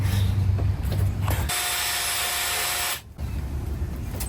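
A power drill whines steadily as it bores through aluminum, a loud continuous high buzz that cuts off abruptly, bracketed by clattering handling noises.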